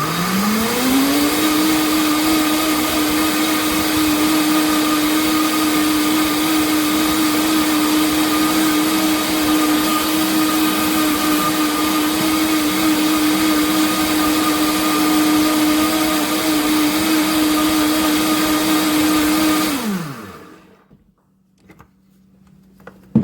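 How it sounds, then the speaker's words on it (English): A Vitamix blender whirs loudly and evenly while blending dates into syrup, holding one steady high pitch for about twenty seconds before it winds down and cuts off into near silence. "So we're gonna blend it up."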